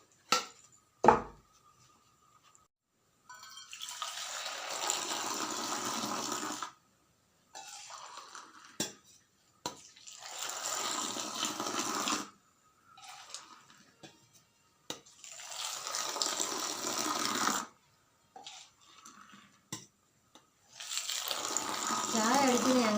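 Hot tea pulled by pouring it back and forth between two vessels, in the Kerala chaya adi style, producing several long rushing streams of liquid separated by short pauses, fairly close and heard on its own.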